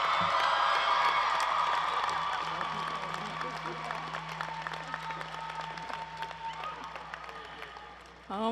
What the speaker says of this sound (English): You might want to really applaud extra loud